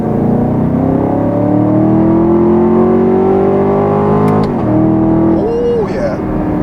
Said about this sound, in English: Gives you a nice pop when you shift at redline.